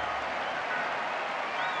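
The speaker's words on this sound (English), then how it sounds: "they're out of the seats applauding this one" A tennis crowd at a Davis Cup singles rubber in Valencia applauds a shot, a steady dense wash of clapping from many people, continuous and fairly distant throughout.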